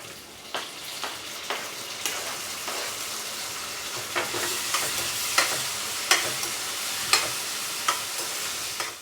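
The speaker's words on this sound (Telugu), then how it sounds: "చూడండి టమాటాలు ఎలా కాస్తున్నాయి" Onions and tomatoes fry in a pan for a Telugu gongura and cluster bean curry, a steady close sizzle broken by repeated sharp scrapes and clacks of stirring at an irregular rhythm.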